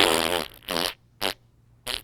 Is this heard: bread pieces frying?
no